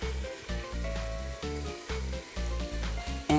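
Ground turkey browning in a pan with onions and garlic for an Italian tortellini soup sizzles up close and loud, with rhythmic scraping and stirring thumps breaking into the frying hiss.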